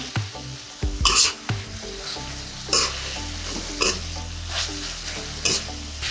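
Beef khua kling, southern Thai style with hand-pounded curry paste and green peppercorns, stir-fried in a pan: a continuous sizzle broken by sharp, evenly spaced scrapes of a spatula, close and loud, with no talking.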